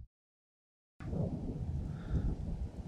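Low, rolling thunder rumbles steadily in the Alps after a second of silence, with a faint hiss of rain or wind throughout.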